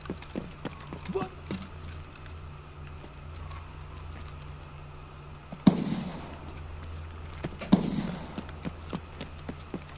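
Video game gunfire in a sniper match: two sharp, loud shots a couple of seconds apart ring out over a quieter background of faint taps and game ambience, with occasional voices nearby.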